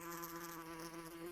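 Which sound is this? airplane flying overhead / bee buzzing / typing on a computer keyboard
bee buzzing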